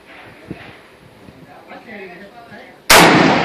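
An M1 Garand rifle fires a single sharp, loud shot close by, cutting in abruptly after a few seconds of quiet murmured voices and leaving a brief decaying crack.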